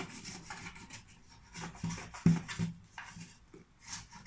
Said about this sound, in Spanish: Con una lengua, a mí me gusta separar los laterales del pan de la cubeta